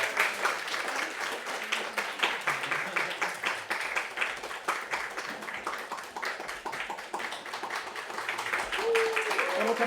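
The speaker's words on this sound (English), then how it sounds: "Applaud the frog." Audience applause at an evening talk, dense rapid clapping from a crowd filling the whole stretch, steady and loud with a few faint voices underneath.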